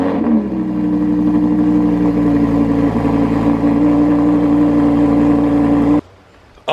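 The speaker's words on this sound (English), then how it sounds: "Let's get a cold start." A car engine turns over on a cold start and then holds a strong, steady high idle with a loud rumbling drone for about six seconds before cutting off abruptly.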